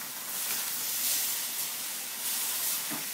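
Lemongrass beef with bell pepper sizzling steadily in a hot pan as it is tossed, a loud continuous hiss with brief swells of spatter and no talk.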